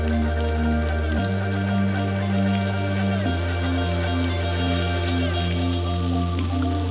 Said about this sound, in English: while that's sizzling on the other side